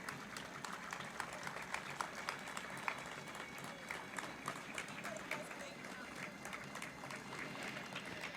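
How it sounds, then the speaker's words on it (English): Sustained audience applause at a sports summit torch ceremony, a steady wash of many hands clapping continuously throughout, fairly distant and even in level. "The audience is requested to kindly keep the applause going."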